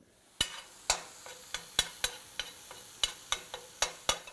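Ground venison browns in a frying pan, heard as a soft background sizzle broken by regular sharp scraping clicks of a utensil stirring against the pan, close and rhythmic, with no speech.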